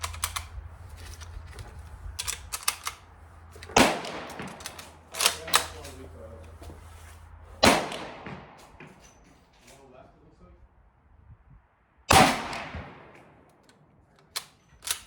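Mosin Nagant carbines with shortened barrels firing full-power cartridges at an outdoor range, several sharp, loud gunshots spaced seconds apart with clicks and handling sounds between them and talk throughout.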